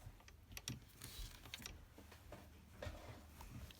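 A sewing machine stitching over the folds of a fabric face mask, a soft close mechanical clatter of rapid needle strokes with faint clicks, fairly quiet and without speech.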